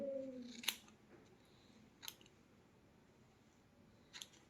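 Scissors snip through hair during a step haircut, three sharp, quiet cuts spaced a second or more apart against a faint background hush.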